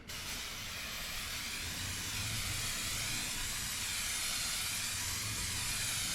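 Clear coat sprays steadily onto a Lexus SC 430 headlight, a continuous close, loud hiss that holds for several seconds without a break.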